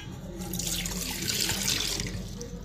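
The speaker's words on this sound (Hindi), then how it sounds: "सबसे पहले मैं एक सॉस पैन लूँगी, उसके अंदर मैं ये पानी ऐड करूँगी।" Water pours steadily into a saucepan while making kahwa, a continuous close splashing rush that holds for a few seconds without any talk.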